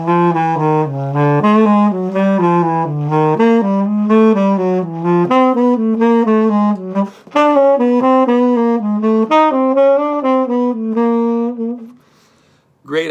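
A jazz melodic line built from three-note chromatic enclosures is played as a continuous run of clear, connected single notes. It pauses briefly midway, then carries on alone with no talk before fading near the end.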